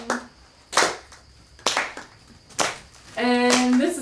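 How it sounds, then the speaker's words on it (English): Audience at a live album-launch music performance claps along to a beat, three sharp, widely spaced claps, followed by a sustained sung or played melodic tone. "maybe you guys can also clap with me"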